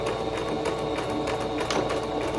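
A sewing machine runs a zigzag stitch at 5 width by 2 length, a rapid, even mechanical clatter of needle strokes repeating steadily and close, with no talk over it.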